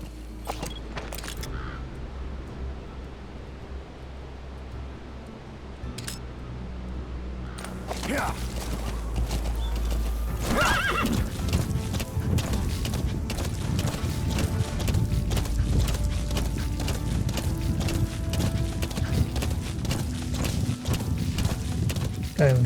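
Horse hooves clip-clop steadily in the Metal Gear Solid V open-world game, with a brief neigh, beneath ongoing ambient game sounds and someone talking.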